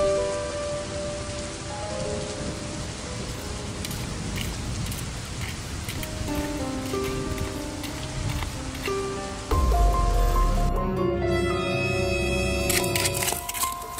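Steady rain falling on surfaces, a dense patter running throughout, with a heavier burst near the end and some music-like tones layered over it.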